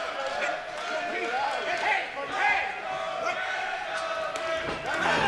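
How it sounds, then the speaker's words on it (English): A crowd at a K1 kickboxing match between Payton Corrigan and Luan Venter swells with cheering and shouts, a roaring, surging mass of voices with a commentator talking over it. "the crowd is now getting into this"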